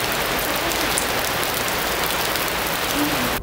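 Steady, dense rain pours onto a surface, a continuous hiss with pattering drops and no voices, cutting off abruptly at the end.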